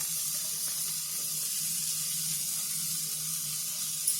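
A spice masala roasts in a hot pan, giving a steady, close sizzle that runs evenly throughout with no talking.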